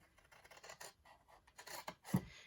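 Scissors trim the corners and bulk from a scored, folded cardstock clamshell box, giving a few short close snips and rasping cuts. The last cut is the loudest.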